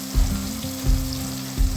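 Chicken pieces rubbed with garlic, ginger, chili, turmeric and pepper sizzle in hot oil in a pan, a steady close frying hiss broken by three low thumps at regular intervals.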